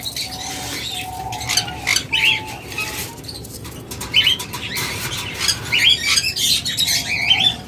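A pair of Fischer's lovebirds, one blue and one yellow, gives sharp, repeated squawks and chirps in quick irregular bursts, close and lively, with faint wing flutters in between.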